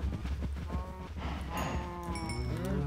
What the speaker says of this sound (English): I will jump in the pen with all the happy cows